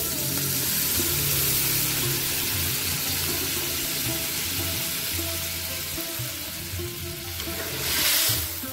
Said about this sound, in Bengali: অল্প জল দিয়ে দিচ্ছি।